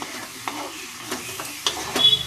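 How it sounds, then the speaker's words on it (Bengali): Cumin and coriander powder being stirred in a frying pan, with soft scraping strokes a few times over a quiet, low sizzle; close and fairly faint. "এবার এটা একটু নাড়াচাড়া করে নেবো"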